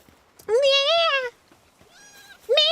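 A person's voice imitates a cat with two drawn-out meows and the start of a third, loud and close, with a quieter meow in between.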